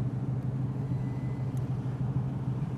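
A 1920s Le Mans race car with a non-synchro gearbox idles on the road as it drops down into first gear, giving a steady low engine rumble, close and continuous, with no talking.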